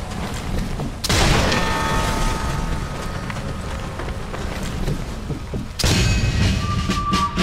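Two loud blasts about five seconds apart in the video game Sniper Elite III, each followed by rumbling, crackling debris over steady background noise.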